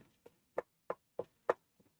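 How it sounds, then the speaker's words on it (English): Ground meat browning in a pan for sloppy joes is chopped with a utensil, giving six faint, evenly spaced taps and scrapes, then two softer ones. "So we're browning this, and I'm just kind of chopping it a little bit at a time."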